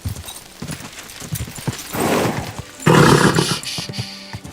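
Galloping horse hooves in Kingdom Come Deliverance II, a rapid, uneven clip-clop of thudding hoofbeats up close, growing louder and denser toward the end amid rustling movement.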